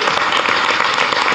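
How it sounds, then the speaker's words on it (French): An audience at a film festival screening in Angoulême applauds, a dense, steady burst of clapping that fills the short moment. "on peut applaudir Yasmine s'il te plaît"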